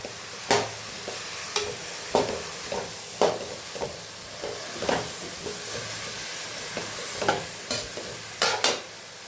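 Chopped banana flower sizzles in a pan while a spoon stirs it in short, irregular scraping bursts, close and fairly soft, with a steady frying hiss underneath.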